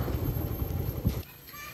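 Horses at a racing stable in Duku Banyak, Padang Pariaman, being readied for a horse race, with close hoof clip-clops and shuffling under a steady din, a louder thump near the end before it quiets; voices murmur in the background.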